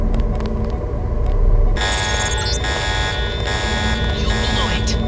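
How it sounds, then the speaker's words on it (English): An alarm going off in the Deus Ex video game, a loud steady electronic buzzing tone that kicks in partway through over a low mechanical rumble, close and continuous. "The alarm has closed the north door."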